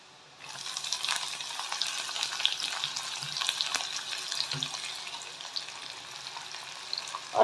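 Chopped onion dropped into hot oil in a kadai, a steady bright sizzle of frying filling the whole stretch after a brief quiet start, with occasional soft stirring knocks.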